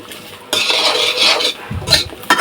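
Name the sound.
papaya pieces frying in oil in a pan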